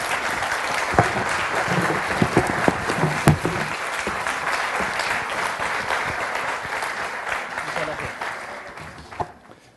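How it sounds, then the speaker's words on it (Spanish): Sustained audience applause fills a seminar hall after a talk at an education conference, dense and steady with a few sharper claps, slowly thinning toward the end. "Yo les voy a pedir que el mismo aplauso sea de pie"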